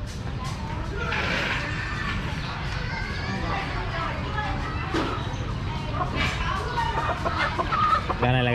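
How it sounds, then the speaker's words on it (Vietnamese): Chickens cluck among the stalls of Sơn Kỳ market in Tân Phú district, where ducks, geese and pigeons are also sold. The clucking is mixed into a busy, continuous market din with nearby voices talking over it. "Đây cái chợ ở đây thì bán rất là nhiều gà."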